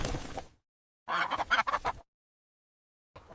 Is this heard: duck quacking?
yes